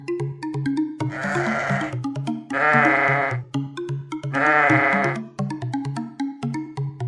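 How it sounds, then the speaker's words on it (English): A sheep bleats three times in drawn-out, wavering calls, loud and close, with a light plucked melody playing steadily underneath and in the gaps. "It's a sheep."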